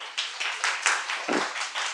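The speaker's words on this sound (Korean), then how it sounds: "여러분 박수 부탁드립니다" A class of students claps together at the end of a C programming lab session, a dense, steady patter of hands at moderate volume for about two seconds with no talking over it.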